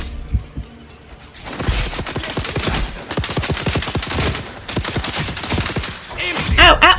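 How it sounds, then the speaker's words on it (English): Gunfire aimed at the player in the Dune survival game, a dense stream of rapid, loud, close shots running almost without pause for several seconds after a brief quieter start. "Stop shooting me!"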